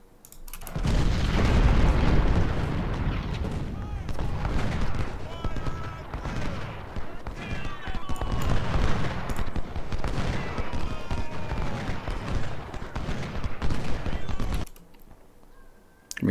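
Cannon artillery fire from the Civil War video game Ultimate General: Civil War booms and crackles almost without pause, mixed with dense musket volleys. The dense, loud battle din lasts about fifteen seconds before cutting away.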